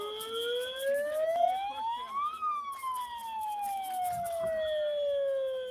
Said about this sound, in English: I definitely cannot handle that siren crap.